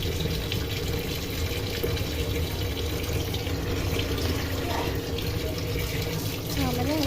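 Jam fruit (small dark plums) are rinsed under a running tap, a steady close rush of flowing water that splashes continuously for the whole stretch.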